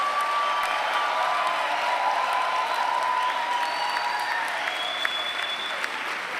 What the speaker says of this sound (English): So what I'd like is for these folks to applaud and cheer.